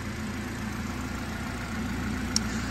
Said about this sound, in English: I've got the car running.